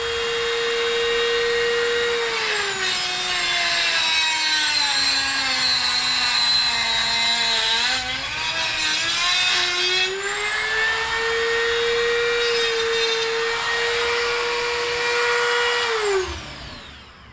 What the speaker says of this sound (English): I'm going to have to Dremel because the motor hits here in the corner